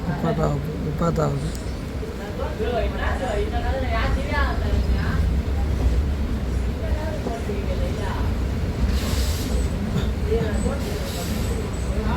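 Local train journeying between Attipattu Pudhu Nagar and Chennai Beach, a steady low rumble of the running carriages throughout with brief brake hiss, voices talking over it.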